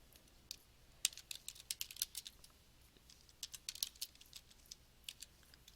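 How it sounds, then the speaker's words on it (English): Keys clack on a computer keyboard in quiet, faint bursts of typing, with irregular clusters of keystrokes and short pauses between them and no voices. "I want you to type your name and I want you to press enter and type today's date."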